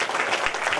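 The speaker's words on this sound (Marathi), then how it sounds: "सगळे जरा जोरदार टाळ्या वाजवत त्यांच्यासाठी" Brief burst of audience applause at a municipal award ceremony, scattered clapping from a crowd lasting under a second, with no speech over it.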